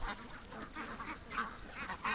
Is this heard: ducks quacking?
yes